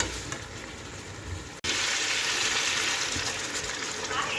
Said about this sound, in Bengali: এই যে একটু জল দিয়ে দিলাম।